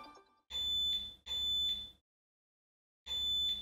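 A VW T6.1 van's Bear-Lock anti-theft alarm sounding in loud, piercing electronic bursts: two long blasts, a pause of silence, then a third burst, each a shrill high-pitched tone heard alone.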